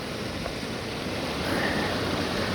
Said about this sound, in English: Water's going.